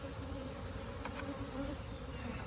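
Honey bees buzz steadily at a hive during mite and beetle treatment, a dense continuous hum from many insects with no voices.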